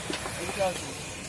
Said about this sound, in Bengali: এই যে কচুরি ভাজা চলছে